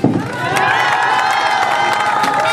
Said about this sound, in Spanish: Recibamos con un fuerte aplauso al contador Francisco Herrera